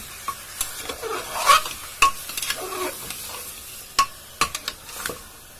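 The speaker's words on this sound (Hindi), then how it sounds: "अच्छे से फ्राई कर लेंगे।" Mutton korma frying in a pan while a spoon stirs it, a steady sizzle under sharp scraping clinks that come in irregular bursts, close and fairly loud.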